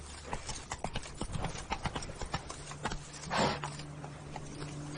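The game horse Roach gallops in a quick rhythm of close, sharp hoofbeats, followed by a short snorting breath and then quieter ambience.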